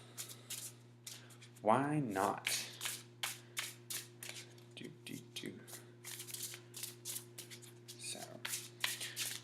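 Light Oracle cards shuffled by hand at a tabletop, giving a steady run of quick, close papery riffling bursts in an even rhythm while someone talks over them.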